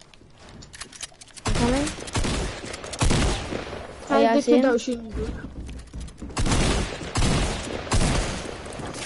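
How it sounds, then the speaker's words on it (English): Rapid bursts of sniper gunfire crack out in a shooter video game. The shots come in loud, repeated volleys across the scene while several players talk and shout over them. "We got loads of kids just sniping at us and stuff."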